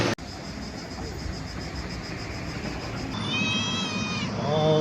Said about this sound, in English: look at this hungry little kitty